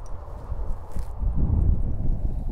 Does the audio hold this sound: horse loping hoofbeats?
yes